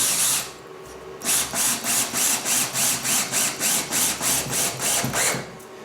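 Power drill driving screws into a glued workbench top in short repeated bursts, about a dozen pulses of whirring with brief pauses between them, close and loud with no voices.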